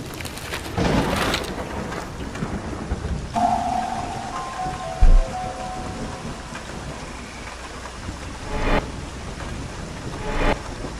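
A thunderstorm with rain in the video game 9 Clues 2: The Ward: steady rainfall throughout, broken by a few loud thunder cracks and rumbles, with no talking.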